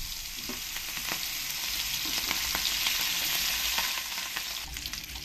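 Rui fish pieces frying in oil in a pan, a steady, close crackling sizzle with scattered sharp pops throughout, no voices.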